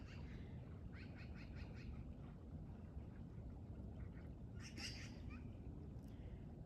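Faint bird calls chirp in short bursts at a distance over heavy rumbling outdoor noise like wind or water, on a snowy trail in Big Bear at sunset.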